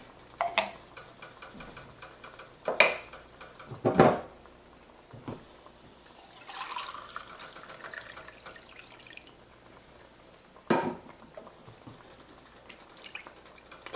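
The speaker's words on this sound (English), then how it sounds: "Starting to bubble, so I'm going to turn my sauce back down" Tomato marinara sauce starting to bubble in a pot: sparse, soft plops and pops at irregular intervals over a quiet kitchen background, a few louder bursts standing out.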